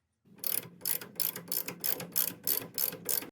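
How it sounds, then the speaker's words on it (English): A ratchet driving a 1-inch socket on the pitman arm nut of a Willys CJ2A Jeep with a Ross steering box, close and crisp, with about nine even bursts of rapid clicking and short pauses between them. "First, we're going to use a ratchet here, and then we will torque it to 100 foot-pounds."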